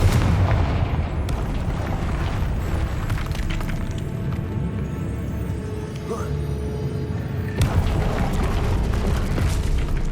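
Repeated booming spell blasts in the Hogwarts Legacy video game, loud and dense against a continuous rumble of game effects, with in-game voices throughout.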